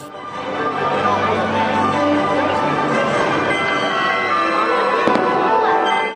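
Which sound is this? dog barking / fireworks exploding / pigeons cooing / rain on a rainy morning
fireworks exploding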